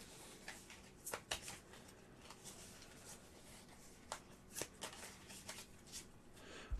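A deck of cards being shuffled close by in a quiet room, with a run of soft riffling bursts and sharp snaps at irregular intervals and no talking.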